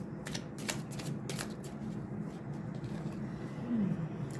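Tarot cards being shuffled and drawn, a series of crisp riffling flicks near the start followed by softer rustling over a low background hum.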